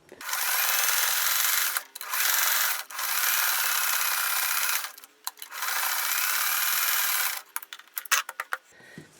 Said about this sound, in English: I'm going to sew these two guys together